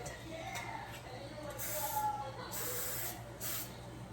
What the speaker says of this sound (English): I gotta spray my spoon that I'm gonna mix it with